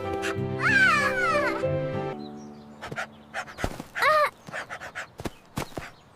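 A puppy whines with high, tonal cries, then pants in quick, short breaths up close, with a few soft yelps mixed in and no talking.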